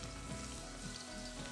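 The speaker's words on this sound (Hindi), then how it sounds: "ये प्याज को तल के ब्राउन कर लेते हैं।" Onions frying and browning in a pan while making vegetable dum biryani, a steady close sizzle with no talk over it.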